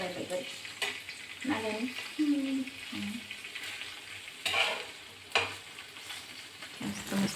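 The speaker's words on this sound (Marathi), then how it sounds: "मस्त मस्त फ्राय करून घेते मी पनीरला." Paneer cubes fry in a pan in a home kitchen, a soft steady sizzle broken by stirring clatters, with a voice speaking briefly over it.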